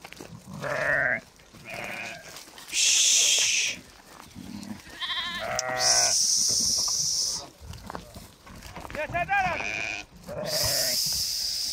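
Pregnant ewes in a flock offered for sale bleat repeatedly in several loud, overlapping bursts from close by, with quieter rustling and movement between calls.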